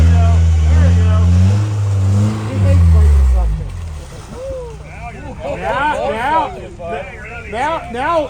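Stuck vehicle's engine revs hard during a recovery day, deep and loud at first, then fading under excited shouting voices giving directions.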